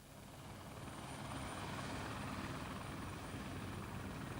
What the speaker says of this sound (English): today there are going to be more helicopter movements than anywhere else in the world